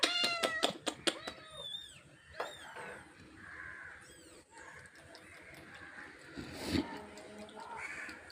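A pet cat named Dundu meows several times in quick succession, close and clear, before a quieter stretch with crows cawing faintly in the background.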